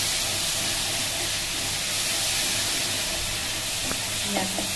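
Spice mixture frying in oil in a pan while being stirred, a dense, steady sizzle and hiss up close, with a few faint scrapes of the spoon near the end.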